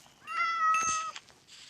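A cat in the Minecraft video game gives a single clear, close meow that rises and falls over about a second, with no other sounds.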